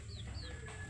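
Backyard chickens clucking softly over a steady low hum, a few short high calls rising above the continuous background, with no talking.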